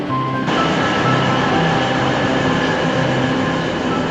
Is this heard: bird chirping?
no